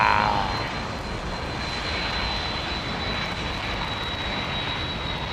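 An airliner with General Electric CF6 jet engines roars steadily at London Heathrow Airport, a constant broad rumble with a thin high whine, holding loud and even throughout.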